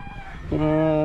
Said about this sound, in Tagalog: Dami palang manok dito, ah.